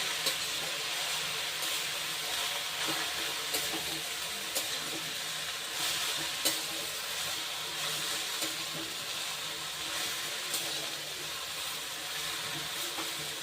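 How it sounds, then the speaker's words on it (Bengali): Amaranth greens and eggplant stir-frying in a wok, a continuous loud sizzle and hiss with soft, regular stirring scrapes at close range, no voices present. "এবার শুধু শাকটা দিয়ে এটাকে নেড়ে চেড়ে বেগুনের সাথে মিশিয়ে দেবো ভালোভাবে"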